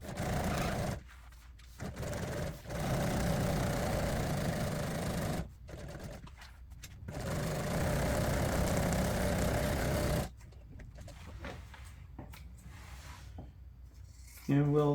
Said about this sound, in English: Now we'll just sew everything up on the white line.